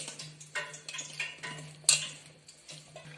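Cauliflower florets squelch and clatter against a bowl as they are mixed with batter by hand, a series of soft irregular wet stirring and tapping sounds, close and fairly quiet with no talking.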